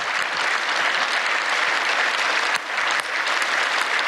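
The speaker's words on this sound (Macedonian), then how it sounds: "голем аплауз." A concert audience applauds at a pop music evening of Ohrid Fest 2025: full, sustained clapping from a large crowd, steady and loud, with two brief dips in intensity.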